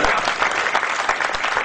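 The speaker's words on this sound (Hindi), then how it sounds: "इस गीत के बीच में शायद आप ताली नहीं बजा सके, इसलिए अब बजा दो एक बार" An audience at a kavi sammelan, a Hindi poetry recital in Bikaner, applauds in a dense, steady patter of many hands, moderately loud and continuous.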